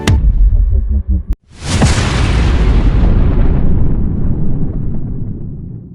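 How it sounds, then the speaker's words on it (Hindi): India's first nuclear test, Operation Smiling Buddha, detonates underground: a sudden, massive boom cuts in after a brief silence, then a loud rumbling roar slowly fades over several seconds. "जमीन के नीचे बहुत बड़ा एक्सप्लोजन होते ही इंडिया का पहला न्यूक्लियर टेस्ट सफल हो गया, जिसके तुरंत बाद साइंटिस्ट राजा रमन्ना"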